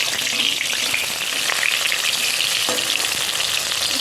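Water lily pakoras frying in hot oil, a loud continuous bubbling sizzle up close with a few sharp crackles and light clatters of utensils, no one speaking.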